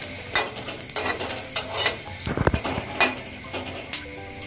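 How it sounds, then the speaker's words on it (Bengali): Garlic fries in a pan close up, with a low constant sizzle and irregular clinks and scrapes as a spatula stirs it against the metal. "রসুনটা একটু ভাজা নিব।"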